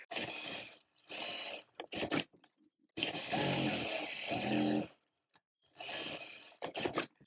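Sewing machine stitching fabric for a women's pyjama, running in long steady whirring bursts separated by short pauses and a few brief clicks, loud and close, alone without talk.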